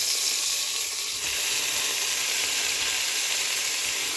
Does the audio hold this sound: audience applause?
no